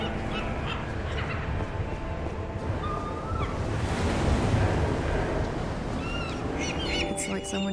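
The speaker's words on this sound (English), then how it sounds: "the haunting sound of the waves punctuates" Waves wash steadily at a small isolated fishing village in the video game Broken Pieces, a continuous surf rumble with wind and scattered bird calls over it.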